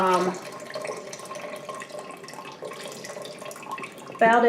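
Water runs steadily into a home canner packed with jars of spaghetti sauce, a continuous splashing flow at moderate level, with a brief louder gush near the end.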